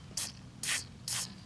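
Jack of All Sprays penetrating lubricant is sprayed onto the seized fan blade hub of an outdoor AC motor in three short, close, hissing bursts with brief pauses between them. No one talks.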